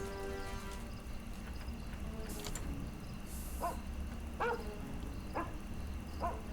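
Dog barks in a Sherlock Holmes detective video game, a few short separate yips and barks spaced out over a steady game ambience, fairly clear with no talking.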